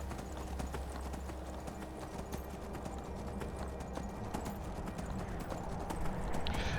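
Horse hooves clip-clopping steadily in the video game Skyrim while riding down a snowy mountain, a continuous rhythmic trot heard close over a constant low ambient wind bed, with no talk.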